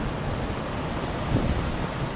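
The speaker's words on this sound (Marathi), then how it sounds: "पुन्हा एकदा जोरात पाऊस आले" Heavy May monsoon rain in the Konkan pours down as a dense, continuous roar of broadband noise, steady and loud throughout with gusty wind mixed in.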